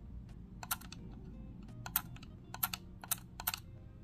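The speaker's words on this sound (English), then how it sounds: "you hear the distinctive sound of the clutch engaging, so when you click it" A Razer Basilisk Ultimate mouse gives a series of sharp, close clicks as its scroll wheel clutch engages and releases, irregularly spaced over a quiet background hum.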